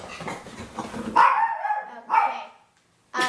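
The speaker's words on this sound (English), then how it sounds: "Please forgive my dogs. They're very annoying." Dogs barking indoors nearby: several loud, sharp barks in a quick burst, a short pause, another bark, then silence before a final bark starts at the end.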